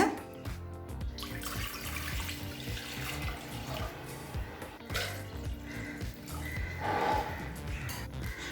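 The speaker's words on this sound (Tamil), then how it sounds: "இப்போ குக்கரில் 5 கப் தண்ணி சேர்த்துக்கலாங்க." Five cups of water pour steadily into a pressure cooker for village-style kootanchoru, a continuous splashing rush, close by, over a busy background.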